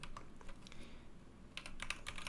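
Light clicking keystrokes on a computer keyboard while working in Blender, scattered taps with a quick cluster near the end, soft and close with no talk.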